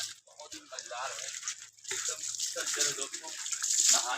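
Water gushes and splashes from a village pump set as people bathe under it, a bright steady rush broken by slaps and splashing, with people talking over it.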